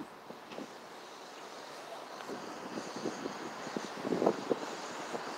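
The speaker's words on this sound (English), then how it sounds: "With the wind blowing, it feels like it's maybe 35 degrees." Cold wind blows steadily outdoors in Phoenix, a faint continuous rush buffeting the microphone with soft irregular gusts and light rustling throughout.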